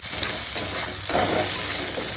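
Red amaranth greens fry in a pan while being stirred, producing a close, continuous sizzle with steady scraping throughout.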